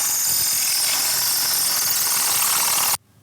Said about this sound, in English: Using your hammer drill, you'll pre-drill the holes in the concrete.